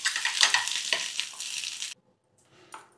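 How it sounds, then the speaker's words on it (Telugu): Moringa leaf chutney is stirred into a sizzling tempering, loud crackling frying for about two seconds, then a sudden drop to near silence and a faint scrape. "పచ్చడి అంతా తాలింపులో కలిసేటట్టు కలుపుకుందాం."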